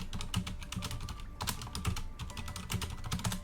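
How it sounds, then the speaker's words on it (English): Steady, rapid clacking of a loud mechanical computer keyboard being typed on, close to the microphone, with dense irregular keystrokes and no talk. "You can hear my clacky keyboard."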